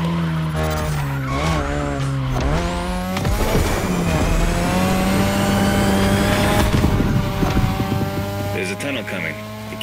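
A third-generation 2002 Mazda RX-7 with a rotary engine skids with long tire squeals and a revving engine in The Crew Motorfest, loud and sustained, as a voice talks over it.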